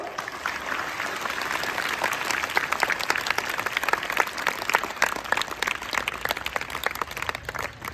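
A crowd at a public gathering claps loudly in dense, continuous applause that holds steady for several seconds and rises slightly in the middle.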